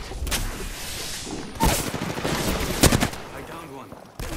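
Gunfire in the battle royale game Apex Legends, a loud, close burst of rapid shots followed by sharper single cracks and booms, with sound fading into quieter rumble between volleys.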